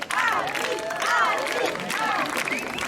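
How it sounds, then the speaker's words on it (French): An audience applauds at a village entertainment event in Pluneret, Brittany, with steady, close clapping and some crowd noise running under a voice throughout. "Et on l'applaudit bien fort, Annie."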